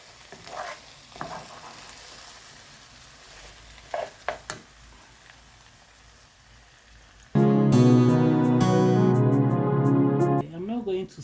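Egg added to a corned beef and carrot stew cooking in a pot sets off a loud, steady sizzle that lasts several seconds after some quieter kitchen noises and a few handling knocks.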